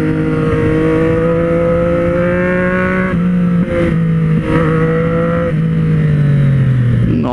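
A motorcycle with a deep sport exhaust revs loudly and close, the engine note rising and falling in several steady throttle swells.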